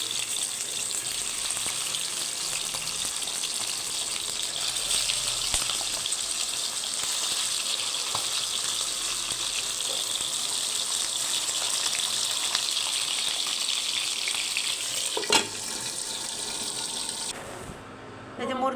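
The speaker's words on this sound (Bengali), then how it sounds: "এই যে মুরগিটা ভাজে উঠাই নিলাম।" Chicken frying in hot oil in a pan over a weak flame, a loud, steady, close sizzle that hisses unbroken for the whole stretch, with a brief clatter near the end.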